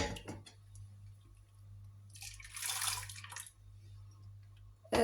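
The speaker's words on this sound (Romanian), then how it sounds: "Acum continuu până am terminat de separat laptele de ocara" Soy milk being strained from okara by hand: a low steady hum under brief wet trickles and a louder splashing pour in the middle, then a sharp knock at the end.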